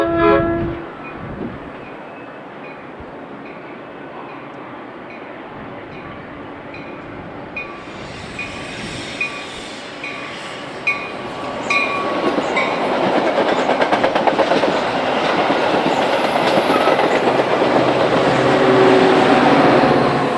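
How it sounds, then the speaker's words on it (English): BNSF commuter trains meet and pass on a busy main line through Chicago's western suburbs near LaGrange. A horn blast opens, then a rising rumble and clickety-clack of wheels grows loud and close as the trains roll by. "Train meets Mean Horn, which never gets old tearing through the western suburbs"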